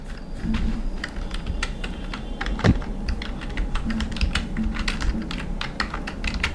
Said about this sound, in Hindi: सर्टिफिकेट को मैं यहाँ पे टाइप कर देता हूँ। तो मैं वैसे ही टाइप कर देता हूँ।